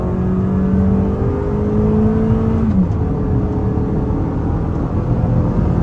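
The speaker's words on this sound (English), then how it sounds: "open her up a little bit more, and see how she performs at some higher speeds" 2023 Toyota RAV4 XLE accelerating on a multi-lane highway: a steady, loud engine drone with rising pitch from inside the cabin, one audible gear shift partway through, then continued road and engine rumble.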